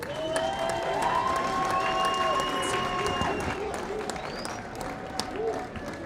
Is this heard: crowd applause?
yes